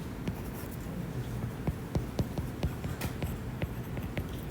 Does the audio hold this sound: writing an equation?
yes